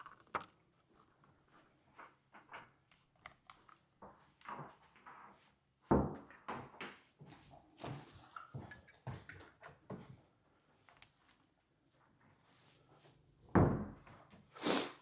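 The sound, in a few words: doors being shut in a two-story tiny house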